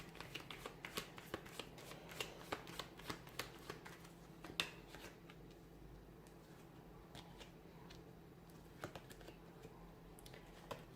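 A tarot deck is handled and shuffled close up, with rapid crisp riffles and light card taps in an uneven, continuous patter over a faint steady room hum and no talking.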